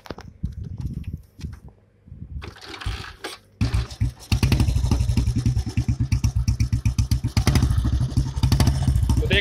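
An old Royal Enfield Bullet motorcycle being kick-started in neutral, with a few thumping kicks before the single-cylinder engine catches and settles into a loud, steady, close thumping idle.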